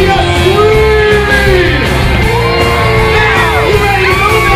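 A large crowd at a Disney street party in Magic Kingdom, Walt Disney World, screams and cheers loudly and continuously, layered yells and whoops rising and falling over a dense festive din.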